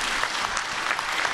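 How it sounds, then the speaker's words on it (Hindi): An audience at a yoga health gathering gives sustained applause, dense continuous clapping heard alone at moderate volume. "जोरदार ताली बजा दो भाई"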